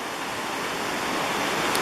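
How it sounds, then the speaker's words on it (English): Bog River Falls, a small but noisy Adirondack waterfall, gives a steady, loud, broadband rush of falling water, continuous and close, with no voices. "The Bog River Falls is not a very big falls, but it's awfully noisy"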